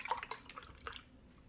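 Milk is poured from a mug into a bowl of strawberry frozen yogurt mix, a few faint, close splashes and drips that fade out quietly.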